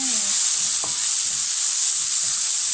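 Tomatoes stir-fried with browned spices in a pan for a pea curry, giving a steady, close sizzle and frying hiss throughout with a brief stir scrape near the start.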